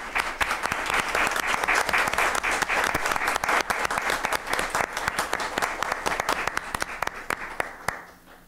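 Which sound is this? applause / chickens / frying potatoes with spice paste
applause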